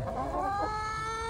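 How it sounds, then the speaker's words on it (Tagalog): Layer hens clucking close by, a steady run of short throaty calls with one drawn-out, higher call near the middle. "Balit ito yung alaga kong manok."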